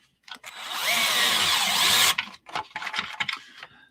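Power screwdriver driving self-tapping screws into a plastic Tamiya Lunchbox EVO model kit, one sustained close whining run for about two seconds, followed by several short bursts and clicks.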